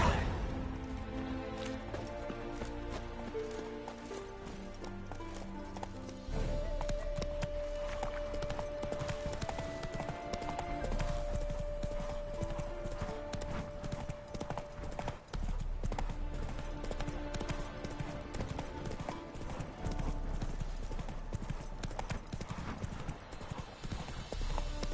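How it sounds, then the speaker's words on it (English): Horse hooves clip-clopping at a run in The Witcher 3, steady and fairly loud throughout, mixed with game music and ambient sound, with a brief spoken line partway through. "Whoa there, Roach"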